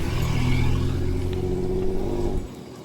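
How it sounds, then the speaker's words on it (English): A car passes along a street, a steady close engine rumble and tyre roar that holds for a couple of seconds and then drops away quickly. "A car just went by and I was able to hear it"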